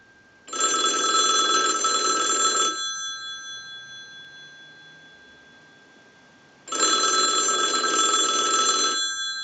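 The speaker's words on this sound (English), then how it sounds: "send a ring cycle like you were getting a call" An old-fashioned single-slot payphone bell rings in two long, loud bursts separated by a few seconds of near silence.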